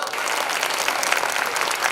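A crowd at a kavi sammelan comedy poetry event claps steadily, a continuous even wash of applause with no talk over it.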